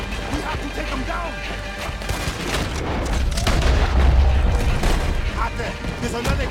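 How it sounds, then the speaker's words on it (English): Gunfire and heavy cannon booms erupt in a Red Dead Redemption 2 battle scene, a dense run of shots and blasts that swells in the middle, with voices talking over the din. "He's shooting."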